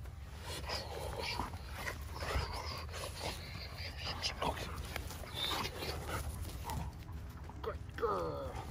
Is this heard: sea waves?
no